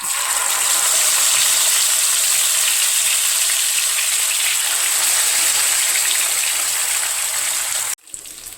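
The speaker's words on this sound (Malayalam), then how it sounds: "മീൻ ഫ്രൈ ചെയ്യാനായിട്ട് പാനിൽ വെളിച്ചെണ്ണ ഒഴിച്ചിട്ടുണ്ട്. അതിലേക്ക് ഇനി ചൂടായ എണ്ണയിലേക്ക് മീൻ" Stuffed fish coated in spicy masala fries in hot coconut oil in a pan, giving a loud, steady, dense sizzle and crackle that runs unbroken before cutting off abruptly near the end.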